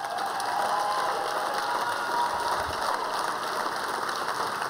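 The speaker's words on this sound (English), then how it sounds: "can you guys give them a round of applause?" A large crowd at the 2019 Louisville Athletics Hall of Fame ceremony applauds in a steady, dense crackle of clapping that fills the room evenly. No voices rise above it.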